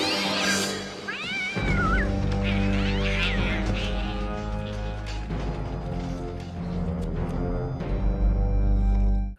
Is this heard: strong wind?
no